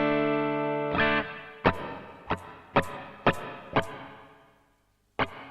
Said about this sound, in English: Then we've just got a general purpose reverb at the back end.